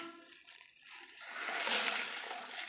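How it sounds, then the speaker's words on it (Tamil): Water pours steadily into a fish tank already holding stones, set up for breeding guppies. The rushing, splashing flow starts soft and swells louder partway through, continuing to the end with no talking. "இப்போ நம்ம டேங்கை தண்ணி ஊற்றி அழகாக எடுத்தாச்சு"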